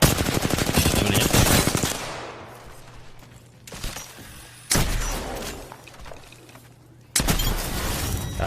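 Gunfire in the video game Apex Legends: a loud burst of rapid automatic shots, then a pause, a single sharp report, another rattling volley, and a final burst of fire, close and dominant with no voices.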